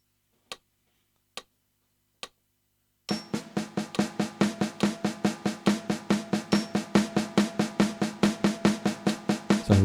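Three sparse clicks count in, then a steady stream of fast, evenly spaced drum hits, four per beat, close and crisp.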